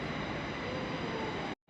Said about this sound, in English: First thing I spot, the sleeper train waiting at the platform